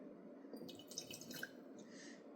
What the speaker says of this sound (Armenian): Ջուր ենք լցում